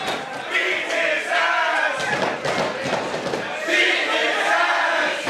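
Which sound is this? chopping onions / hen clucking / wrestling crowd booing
wrestling crowd booing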